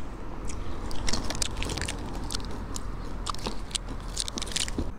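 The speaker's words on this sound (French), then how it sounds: "Ce sont des petites cacahuètes avec un truc par-dessus, je sais pas trop ce que c'est, qui les fait croustiller." Someone eats small crunchy coated peanuts, biting and chewing close up with loud, irregular crisp crunches, while low outdoor background noise runs underneath.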